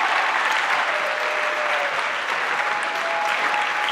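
A theater audience at a Shakespeare monologue and scene contest gives loud, continuous applause, a dense, steady clatter of many hands with no voices on top.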